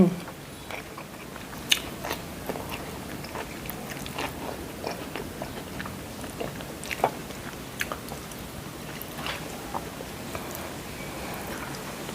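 Someone eating steamed snakehead fish with steamed vegetables and a spicy dipping sauce, with steady close chewing, soft crunches and wet mouth sounds throughout, against a continuous background hiss.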